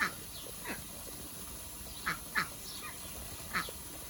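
A duck quacks in a few short, sharp bursts spaced over a couple of seconds, moderately close against a quiet outdoor background, with no speech.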